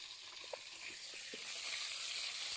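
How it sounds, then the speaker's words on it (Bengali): Potatoes fry in plenty of hot oil in a wok, giving a continuous close sizzle that swells slightly louder toward the end, with a few faint clinks early on. "এই যে মাছের ঝোলের যে আলুটা ছিল ওটা ভেজে নিচ্ছি।"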